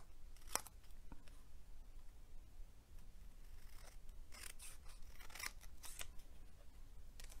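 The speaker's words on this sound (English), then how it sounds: "And I'm going to cut that." Scissors snip gingham fabric for an Easter basket in a few quick, close cuts, with sharp separate snips spaced over several seconds against a quiet background.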